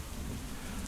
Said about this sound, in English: So the current weather is rain